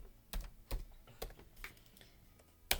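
A handful of crisp, separate keystrokes on a computer keyboard as measurements are typed into pattern-drafting software for a women's blouse, spaced irregularly and close by, with a sharper final tap like a confirming Enter.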